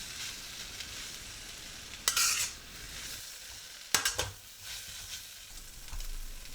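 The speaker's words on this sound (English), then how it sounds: "Keep stir frying while mixing the sprouts and the beef into the noodles." Beef chow mein with noodles and bean sprouts is stir-fried in a wok under a soft continuous sizzle, broken by a few sharp scraping tosses of the spatula.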